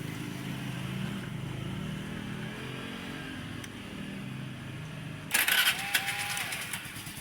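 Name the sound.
Honda Vario motorcycle engine starting with starter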